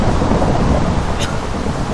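Steady hiss of heavy rain falling in Minecraft, with a low rumble of thunder rolling underneath and a brief crackle near the middle, all loud and continuous with no voices.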